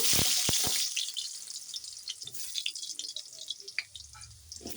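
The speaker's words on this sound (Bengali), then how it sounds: "এখন কড়াইতে এই যে তেল বসিয়ে দিয়েছি তেলে প্রথমে আলুগুলো ভেজে নেব" Oil in a wok with potatoes going in, giving a steady hiss of frying with scattered crackles and a few sharp drips and clinks near the start, fairly close and moderately loud, no talking.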